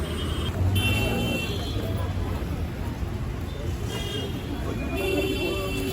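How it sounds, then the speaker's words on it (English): Busy Mumbai street traffic near a colonial train station, with cars and buses rumbling steadily close by, scattered horn toots, and a low babble of people mixed into the constant roadway noise. "Cars, traffic everywhere."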